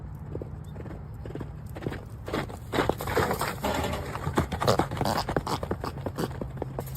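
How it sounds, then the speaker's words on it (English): A horse gallops past with rapid, rhythmic hoof clip-clops, moving quickly over the ground, with irregular scraping sounds and a brief whinny-like sound blending into the busy hoofbeats. "Have you ever seen a horse that's equipped with turbo?"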